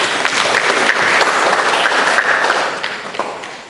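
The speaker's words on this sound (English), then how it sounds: "Give a round of applause for the quality." An audience at a public gathering applauds with dense, sustained clapping that stays loud and steady, then thins slightly near the end.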